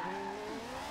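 Car drifting in the racing video game Forza Horizon 2, with a sustained, steady tire squeal over a droning engine whose pitch shifts.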